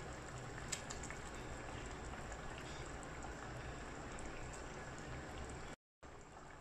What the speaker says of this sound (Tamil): இப்போ ஃப்ரை பண்ணுறதுக்கு நம்ம ஃபிஷ்ஷை எடுத்து வச்சுருக்குறோம்